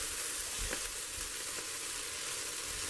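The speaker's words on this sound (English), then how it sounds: "we're going to start with those veggies, saute on about a medium to medium high heat with some olive oil" Onion, zucchini and red pepper sauté in olive oil over medium-high heat with a loud, dense, continuous sizzle that stays even throughout.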